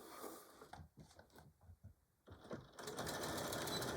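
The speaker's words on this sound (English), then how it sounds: "we will sew this side another 1/2 inch" A sewing machine stitches a tool carry bag in short stop-start bursts, then runs in a steady, louder whir at the end, with no voices.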